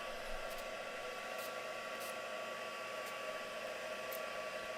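A hair dryer blows steadily on mixed media paint to dry it, a constant close whirring hiss running unbroken from start to finish with no talk.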